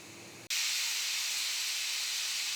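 A pressure cooker holding veg biryani on a medium flame lets out its whistle: after a brief quiet moment, a sudden loud, continuous hiss of escaping steam bursts out and holds steady.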